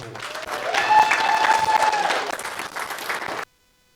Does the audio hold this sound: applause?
yes